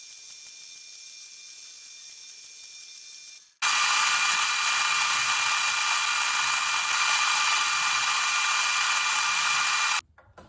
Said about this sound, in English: pre-drill all those holes, countersink them all